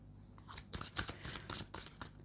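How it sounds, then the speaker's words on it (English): A deck of tarot cards is shuffled by hand, giving quick, close riffling and slapping bursts in an uneven rhythm with no talking. "I'm being called to shuffle all over again"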